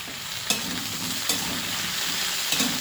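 Potatoes and green chillies frying in a pan, a steady close sizzle broken by three brief scraping stirs of a spatula, with no talking.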